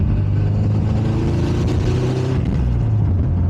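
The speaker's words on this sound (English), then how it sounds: "Love that second to third pull." Subaru WRX engine pulls hard through a second-to-third gear shift, a loud, continuous near-field drone with rising harmonics that dips briefly at the change and climbs again, no talking.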